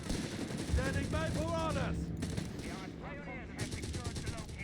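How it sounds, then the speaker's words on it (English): Bursts of MG42 machine gun fire in the Company of Heroes 3 strategy game sound through a busy battle mix, rapid rattling volleys continuing under a commentator's voice. "Sappers there being wrecked with MD42 fire here"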